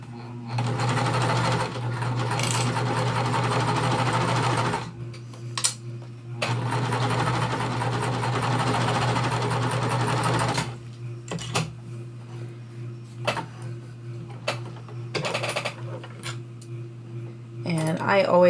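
A sewing machine stitching quilt fabric runs in two long continuous bursts of steady whirring, close and loud, then stops; the pause after holds a few faint clicks and handling sounds.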